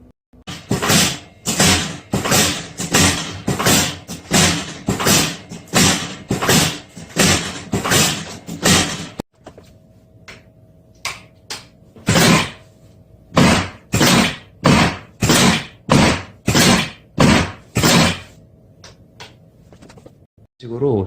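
A Korean chuna therapy drop table in a clinic treatment room bangs out rapid runs of loud, regular thumps. A short pause with a voice breaks the runs, then the thumping resumes.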